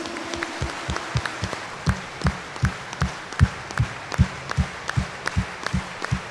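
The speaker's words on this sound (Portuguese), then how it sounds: "Então lasca uma salva de palmas para Jesus." A church congregation at Sunday Mass claps for Jesus, a room full of hands starting loosely and then settling into a strong, steady rhythmic beat of firm claps that echo in the hall.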